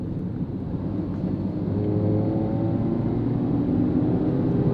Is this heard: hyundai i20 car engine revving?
yes